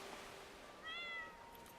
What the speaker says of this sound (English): He said, meow.